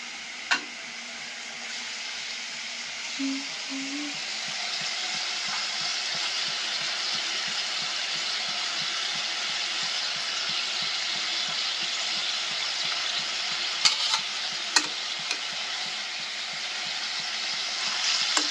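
Fish cooking in fried spice paste for a fish bhuna sizzles with a steady, close hiss throughout, broken by a few soft clinks and scrapes of stirring in the pan.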